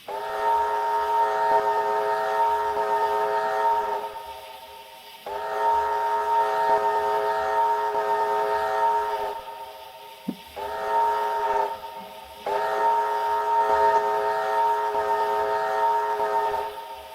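A Chinese QJ steam locomotive's five-chime whistle, from the Trainz train simulator game, blows in four long, loud blasts separated by short pauses, with a brief click between two of them.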